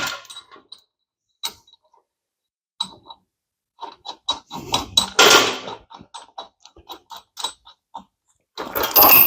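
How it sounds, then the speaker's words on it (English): A wrench works the bolts on the transaxle output of an RCR GT40 kit car, producing a series of sharp metallic ratchet clicks and clinks in irregular bursts with brief pauses, close and fairly loud. "I'm just going to pick up the bolts on the output of the transaxle."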